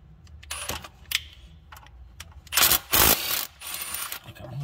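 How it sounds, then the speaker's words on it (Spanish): Metallic clicks and ratcheting bursts from a ratchet loosening a 12 mm bolt on a 2007 Honda Pilot during an oil-leak repair, several short close rasps with a louder sustained ratcheting run near the middle. "Para poder hacer esto necesitamos desconectar de este tornillo número 12 aquí"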